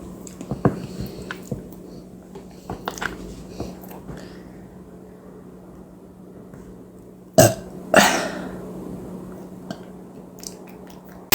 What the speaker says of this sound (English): Oh, that was a thick burp.